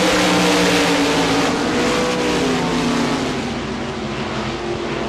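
A pack of RaceSaver sprint cars roars around a dirt track, loud and continuous, with engines droning at high revs and a slight fade as the cars pass on.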